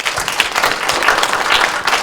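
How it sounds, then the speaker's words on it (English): Steady audience applause fills the room after a university talk in Botswana, a dense even patter of many hands clapping throughout with no pauses. "So let us give him a hand of applause again"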